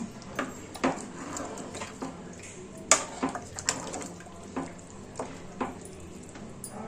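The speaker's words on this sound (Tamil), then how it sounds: "இப்போ நம்ம தண்ணி ஊற்றிக்கலாம். தேவையான அளவு ஊற்றிக்கலாம்." Water poured into a simmering chicken gravy in a home kitchen pot, soft splashing and sizzling with scattered clinks and bubbling pops, fairly quiet and close.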